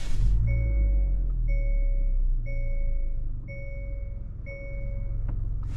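A 2024 Hyundai Elantra SEL with a 2-liter four-cylinder engine idles with a low, steady rumble while a two-tone warning chime repeats at an even pace above it, with no voices.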